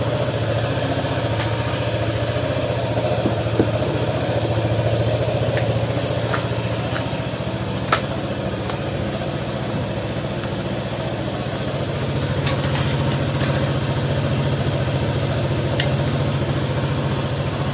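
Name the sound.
Honda PCX scooter engine idling after starting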